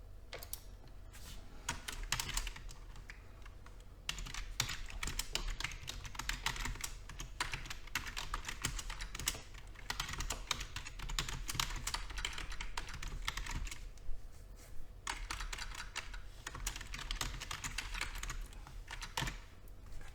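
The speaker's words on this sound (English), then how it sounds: "So you would type in whatever you need" Steady, rapid typing on a computer keyboard fills the stretch with continuous clicking keystrokes in irregular bursts and short pauses, close and moderately loud with no talking.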